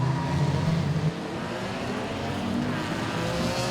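Enduro race cars roar back up to speed together on the restart at Langley Speedway, a dense, continuous wall of engine noise that stays loud and close throughout.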